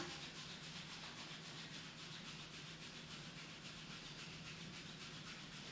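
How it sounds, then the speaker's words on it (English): Steady, vigorous hand rubbing behind the knees during a full-body stretching class, a continuous soft friction rasp held at an even, quiet level throughout with no talk. "rub up and down vigorously with your whole hand"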